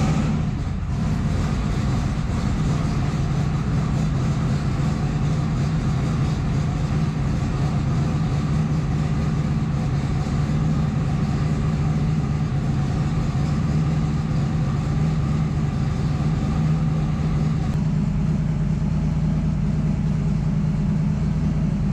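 A race car engine at the track runs at a steady, loud, low rumble with a constant drone for the whole stretch and a slight shift in tone near the end. There is no talking.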